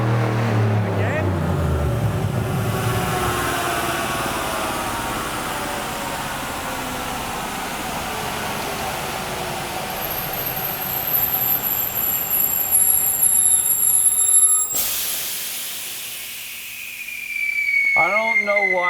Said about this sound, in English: That backfire made it shut off.